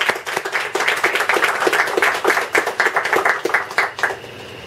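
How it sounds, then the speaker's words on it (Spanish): An audience applauds a writer at a talk, with dense, steady clapping from many hands that carries on for several seconds before tapering off near the end. "Un aplauso para el escritor."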